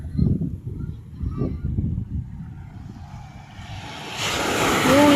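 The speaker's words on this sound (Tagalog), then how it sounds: "Yung lakas ng alon." Strong ocean waves crash against rocks; people talk over a low surf rumble before a loud, broad wash of breaking water swells up toward the end.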